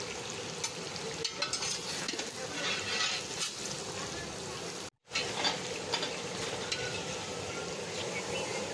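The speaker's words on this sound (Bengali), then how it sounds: "চিংড়ি মাছ ভেজে নেওয়া হয়েছে, এবার পটল ভাজা হবে।" Pointed gourd (potol) slices fry in oil with a continuous soft sizzle and bubbling crackle, broken briefly by a moment of silence midway.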